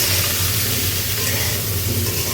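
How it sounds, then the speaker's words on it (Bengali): Potatoes fry in hot oil with salt and turmeric, giving a loud, dense, continuous sizzle and hiss close by with no pauses. "লবণ আর হলুদ দিয়ে এখন আলুগুলো তেলে ভেজে দিতে হবে"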